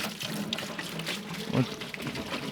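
Water runs and trickles off a pumpkin harvester, draining steadily down the machine's side away from the drive shaft, a continuous close wash with a faint voice underneath.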